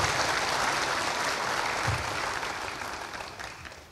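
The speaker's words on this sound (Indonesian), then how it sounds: "Ini PKS banyak juga tepuk tangannya ini" Audience members, including PKS party members, clap during a political speech by Prabowo on corruption, a dense crowd applause that holds steady and then gradually fades away.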